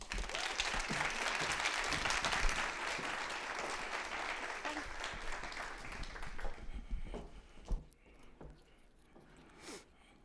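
A university lecture audience applauds to welcome the Dean of a School of Nursing at a speaker series, with dense, sustained clapping that thins out and fades into quieter room noise and scattered claps.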